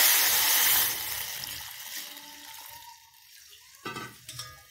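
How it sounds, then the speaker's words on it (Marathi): Water pours and splashes loudly into a cooking pot at first, then trickles off into quiet, followed by a few soft clinks. "आता हे पाणी आपल्याला ह्याच्यामध्ये ओतायचं आहे"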